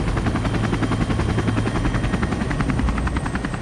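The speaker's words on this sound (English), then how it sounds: "In the heli is spotter Chris Lee" A rescue helicopter thumps steadily at a backcountry landing zone in avalanche terrain, its close, loud rotor chop pulsing rapidly and evenly over a roaring turbine, with no voices.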